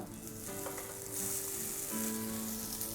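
Ragi vermicelli and onions stir-fried in a pan, with a steady close sizzle and soft scraping of the spatula throughout, no voices.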